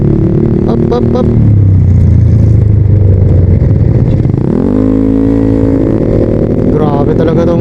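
Honda PCX160 scooter with CVT revving hard nearby, engine note dropping, holding, then sweeping sharply upward and sustaining a loud high rev.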